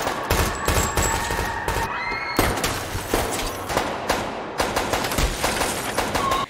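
Rapid bursts of gunfire crackle continuously, dense overlapping shots and ricochets forming a loud, chaotic film shootout with no pauses.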